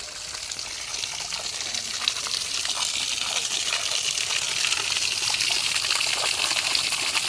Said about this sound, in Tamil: இங்கே ஒரு தொட்டியில் தண்ணி வருது.